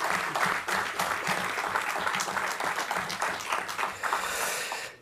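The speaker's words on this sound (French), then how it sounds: "Applaudissements." Sustained applause fills a council meeting chamber, with many hands clapping steadily at close range for the full five seconds, dense and fairly loud, with a faint voice underneath.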